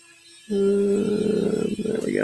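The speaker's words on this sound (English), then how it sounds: "My rotary tool, that Dremel, that's pretty important." A Dremel rotary tool spins up and runs close by with a loud, steady motor whine that holds for about two seconds.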